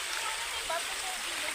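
A rocky mountain stream flows near a river crossing, a steady soft rushing wash at low level with voices nearby.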